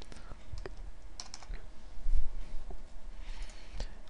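Computer keyboard typing during a C++ Qt programming session, with scattered light key clicks at an uneven pace over a steady low hum, up close and fairly quiet.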